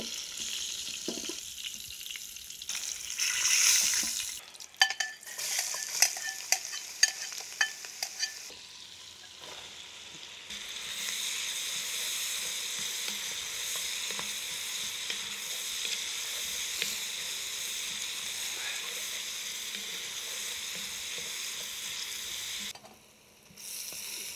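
Beef short ribs braise in a pan for Taiwanese beef noodle soup, with a continuous sizzling hiss and a run of quick stirring clacks early on, then steady frying that briefly drops out near the end.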